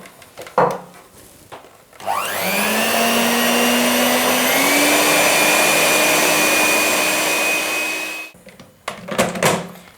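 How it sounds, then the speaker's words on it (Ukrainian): An electric mixer whirs loudly and steadily for about six seconds as it beats eggs with sugar into a fluffy foam, starting after a brief rustle and stopping abruptly, with clattering afterwards. "Я використовую сучасні прилади для цього, міксер. Нам потрібно збити яйця разом із цукром до пишної піни."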